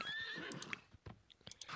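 Horses on a ranch in The Sims 4 give a short, high whinny up front, followed by scattered hoof clip-clops and small snorts, all fairly quiet and close.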